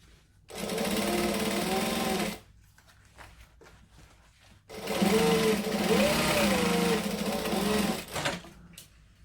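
A sewing machine runs in two sustained whirring bursts of about two and four seconds, top stitching a hobo bag. It is close and loud, with a quiet pause and faint handling noises between the runs.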